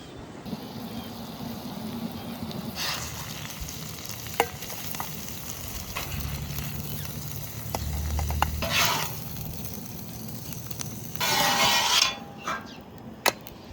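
Chorizo spread out and crisping on an outdoor tailgate grill, giving a steady low sizzle and frying crackle with occasional scraping and stirring, close and continuous with no talk.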